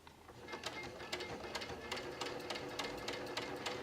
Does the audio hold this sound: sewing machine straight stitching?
yes